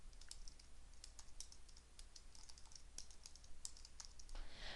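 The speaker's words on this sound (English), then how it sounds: "I'm typing the Enter or Return key to move between rows in the same column" Typing on a computer keyboard, repeatedly pressing the Enter or Return key, with steady close clicks and taps spread irregularly over a faint background hiss.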